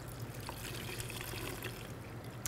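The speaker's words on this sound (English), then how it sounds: "pour the water into the roses themselves, allow those petals to fill with water" Water trickles softly as it is poured into the petals of roses in a vase for an underwater floral arrangement, a faint, steady dribble lasting a couple of seconds.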